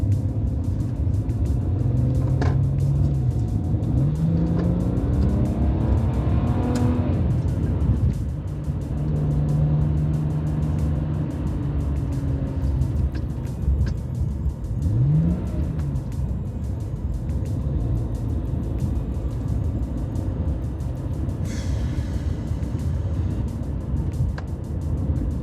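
Inside a 2009 BMW 335xi driving on a highway, a low, steady engine and road rumble runs throughout, with gear-change swells rising and falling, no one speaking.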